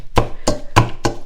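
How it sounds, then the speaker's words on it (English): A Pampered Chef masher tool strikes down into roasted pears and garlic in a bowl, four evenly spaced, close, dull thuds in quick succession with no talking. "use the potato masher and kind of mash this all up together"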